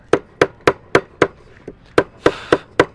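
A blacksmith hammers hot metal on an anvil, giving about ten sharp, ringing blows in a steady rhythm with a short pause partway through. The strikes are close and loud, and no one speaks.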